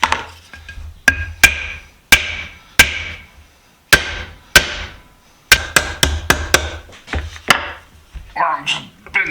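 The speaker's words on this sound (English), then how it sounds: "Little brass hammer comes in handy." Small brass hammer striking a Reed No. 24 utility vise during restoration, about a dozen sharp, ringing metallic blows in uneven bursts, close and loud with quiet gaps between them.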